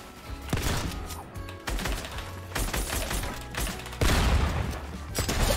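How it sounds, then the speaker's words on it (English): Gunfire in the Fortnite video game: rapid bursts of shots in quick succession, loud and close, with a few short gaps between volleys and no talk. "I just shot through your wall."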